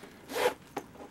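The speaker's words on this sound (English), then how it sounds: "Zipper on top" The top zipper of a Dooney and Bourke Disney handbag is pulled in one quick close rasp, followed by a brief second tug, heard up close in a quiet room.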